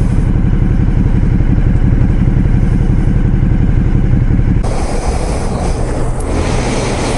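A motorcycle engine idles near and loud with a steady rumbling drone, its tone changing partway through.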